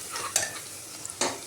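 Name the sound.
onion being fried and stirred until golden brown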